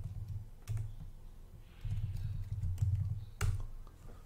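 Keystrokes on a computer keyboard while entering a log search query, a few scattered clicks followed by a denser burst of typing, close and moderately quiet with no talking.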